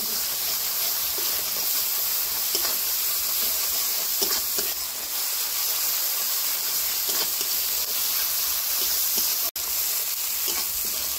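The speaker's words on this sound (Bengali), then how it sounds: "এবারে আমি সব মশলাগুলোকে ভালো করে নাড়াচাড়া করে কষে নেব।" Spices with turmeric and poppy seed paste stir-frying in a pan for an egg curry, a steady close sizzle and hiss running throughout with faint scraping stirs and no talking.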